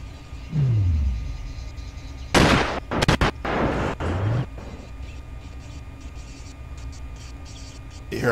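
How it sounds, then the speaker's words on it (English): Thunder in the video game Sniper: Ghost Warrior: a few sharp, loud cracking bursts in the middle of a quiet, humming background, followed by a short rumble. "You hear a sound of thunder."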